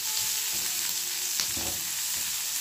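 Chili flakes frying briefly in a little oil in a pan, a soft, even sizzle with a few faint stirring scrapes, fairly quiet and without speech.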